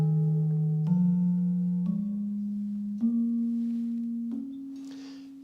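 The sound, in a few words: gamelan keyed instrument played in slendro tuning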